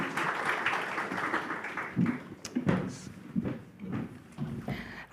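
An audience applauds panel speakers at the Prague European Summit 2022. The clapping is moderate and somewhat uneven, with individual claps standing out over a few seconds before it trails off.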